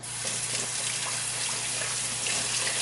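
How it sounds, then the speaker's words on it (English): Tap water running steadily into a kitchen sink while a pepper is rinsed, a close, continuous gushing splash with no talking. "I wash my pepper."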